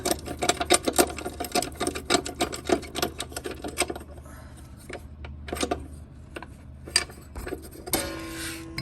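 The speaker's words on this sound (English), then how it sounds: "Get on there with an open end wrench, 1/2 inch or socket, whatever you can do, and loosen that up" A ratcheting socket or wrench works a bolt loose on a Toro Timemaster mower, a rapid run of close metallic clicks that thins out into a few scattered clanks and rattles, with no voices.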